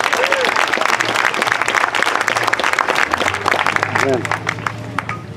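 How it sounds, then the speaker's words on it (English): Loud, close audience applause for a high school madrigal choir at an outdoor statue dedication, dense clapping with cheers and crowd voices mixed in. "Please give a nice warm hand again, once again, for the Bedford High School Madrigal Singers."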